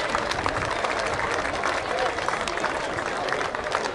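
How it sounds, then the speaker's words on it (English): Crowd applause and cheering at a youth league football grand final, a dense, steady wash of clapping lasting the whole stretch, with voices mixed into the noise. "I think they deserve a big round of applause for that"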